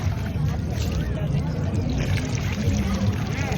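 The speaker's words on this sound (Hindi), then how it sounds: "मम्मी पानी डाल के अपना कार्य पूरा कर रही है" A mother pours water out on a visit to Nageshwar Jyotirlinga in Gujarat, giving a continuous splashing gush with voices audible in the background.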